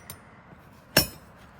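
Metal Proto wrenches, including a 5/8 Professional and double box end wrenches, clink together as they are handled: a faint tap followed by one sharp, bright metallic clink that rings briefly, with no talking.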